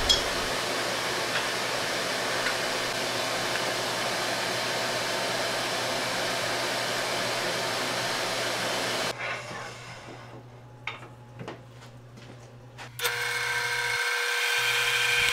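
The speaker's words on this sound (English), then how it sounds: "here I'm just boring out the hole where I'm going to mount the handle for the lid" Wood lathe boring a hole in a turned bowl lid for a handle, a steady loud whirring hum that cuts abruptly partway, followed by scraping and tapping, then the motor whine returns.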